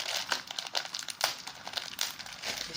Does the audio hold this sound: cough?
no